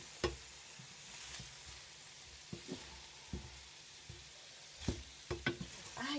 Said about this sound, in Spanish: vamos a comenzar a revolver